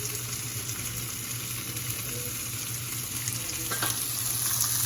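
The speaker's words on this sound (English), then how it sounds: "while the shrimp is cooking, let me flip it to the other side" Shrimp sizzling and frying in a pan on the stove, a steady close hiss and crackle with a brief stir of movement near the end; pasta with shrimp, veggies and tomato sauce being made.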